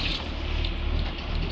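A boat engine in the Granny horror video game reverses with a steady, loud, broadband rumbling drone that holds unbroken throughout, alone with no talk.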